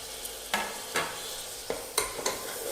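Chopped onion and small-cut tomato sauté in a pan for a soya chunk curry, a low sizzle under several distinct spoon scrapes and knocks against the pan at uneven intervals.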